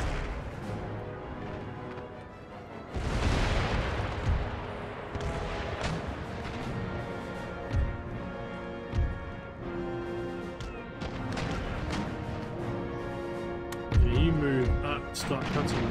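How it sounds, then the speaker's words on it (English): Rocket artillery bombardment in Empire: Total War, a naval battle against the Prussian fleet, with a loud rushing barrage of launches and crashing impacts piling up over a dense battle din, with sharp bursts recurring throughout. "Rocket artillery, prepare the bombardment."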